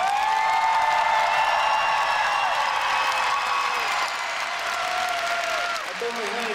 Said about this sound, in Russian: Конечно, хотелось бы побольше аплодисментов,